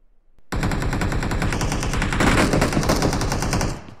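Sustained automatic gunfire from a PUBG Mobile match: dense, rapid shots start abruptly after a brief quiet moment and continue loud and unbroken for several seconds before tapering at the end.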